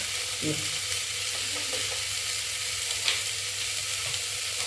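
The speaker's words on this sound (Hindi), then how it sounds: "और इसको फिर नमक डाल के भून लेते हैं।" Green cowpeas (lobia) fry with salt in a pan, giving a continuous moderate sizzle with a few soft stirring knocks early on and a brief sharper scrape near the end.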